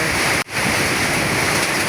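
Storm wind and driving rain lash Dhaka in a loud, continuous broadband roar, interrupted by a single brief dip near the start.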